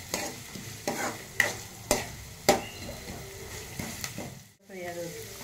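Thick-sliced onions frying in a pan for an egg curry, with a low sizzle under repeated rhythmic scraping stirs of a spatula, close up, about eight strokes before a brief pause.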